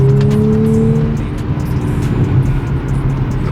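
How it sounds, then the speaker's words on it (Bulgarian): Audi S4 quattro powering out of a corner on a road, a strong, steady engine note with rising then settling pitch, close and loud throughout with no talking. "даваш газ и излиза от завоя"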